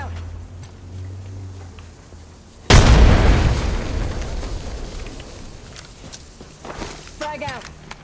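A frag grenade goes off in a video game: a single sudden, loud boom near the middle, then a long rumbling decay. Someone talks before and after it.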